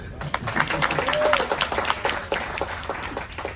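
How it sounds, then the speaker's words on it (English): A crowd claps steadily and continuously, a dense patter of many hands at moderate volume, with a voice talking faintly underneath. "Can I just hear the clapping? Just the clapping?"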